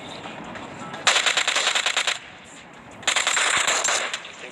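An M249 machine gun fires in a video game in two sustained bursts, each lasting about a second, with a brief pause between them. The rapid automatic fire sounds loud and close.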